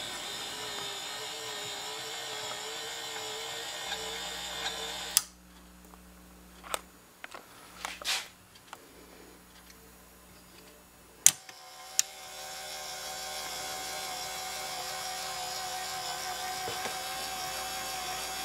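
A DIY motorized scissor lift for a watch cleaning machine runs with a steady electric motor whine, goes quiet for several seconds apart from a few sharp mechanical clicks and taps, then starts humming again.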